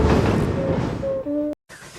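Steam engine Emily chugs along pulling a goods train, a steady rumbling churn with a held whistle-like tone near the end before a sudden cutoff.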